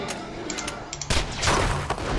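Rapid gunshots from Borderlands 2 gameplay, a quick scattered volley of sharp cracks followed by a louder burst of several overlapping shots, close and punchy.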